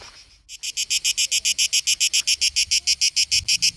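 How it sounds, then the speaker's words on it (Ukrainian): A loud, steady run of rapid pulsing cicada buzzes repeats in an even rhythm, close and shrill, after a brief quiet start, at Tomar Castle in Portugal. "скрізь, куди б я не пішов у цьому замку, чути стрекотання цикад"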